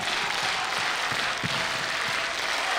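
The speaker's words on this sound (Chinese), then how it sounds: "我们一起来爱的鼓励背去。" Audience clapping in unison with a steady, evenly spaced beat, an encouraging rhythmic cheer at a school children's folk-song singing competition, filling a hall alongside broad crowd noise.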